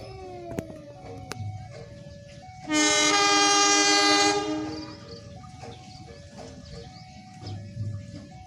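Serayu passenger train passing near Ciawi station, a loud sustained horn blast over the rumble and clatter of the moving cars, with outdoor ambience and distant chirping around it.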